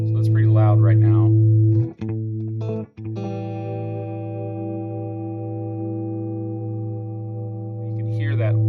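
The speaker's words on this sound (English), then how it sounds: "You can hear that warbling. Most people associate that with tape echoes." Morley echo pedal set to a loud slapback, sustaining a held guitar tone with a wavering, warbling pitch wobble over several seconds, broken by brief picked notes, with speech at the start and end.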